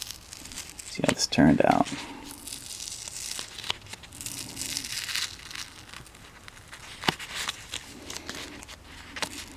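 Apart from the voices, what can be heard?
masking tape peeled off a watercolor pencil painting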